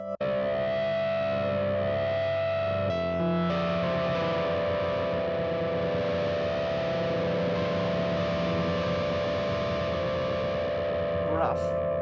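Yamaha CP-88 stage piano with its distortion effect engaged holds gritty, overdriven sustained chords that shift partway through, loud and thick, ending with a brief crackle.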